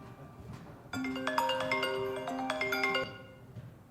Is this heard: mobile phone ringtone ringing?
yes